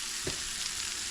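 Chicken frying in a hot pan gives a steady, close, broadband sizzle, with one brief soft thump of a piece being flipped near the start; no one speaks.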